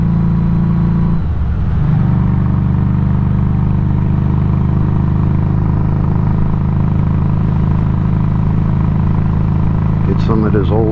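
A Harley-Davidson Street 500 motorcycle rides along with a steady, loud engine drone, a brief shift in pitch near the start and rising revs toward the end, while someone talks over it.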